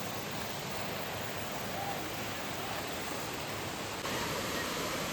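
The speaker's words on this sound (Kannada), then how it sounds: "ಇಲ್ಲಿ ಬಂದ್ವಿ, ನೀರು ಸೌಂಡ್ ಬರ್ತಾ ಇದೆ ನಮಗೆ." A hidden waterfall near Sakleshpur sends out a constant, even roar of rushing water, steady and unbroken throughout, heard from a short distance with no other sounds standing out.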